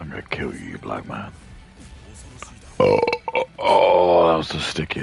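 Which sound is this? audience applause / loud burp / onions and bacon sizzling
loud burp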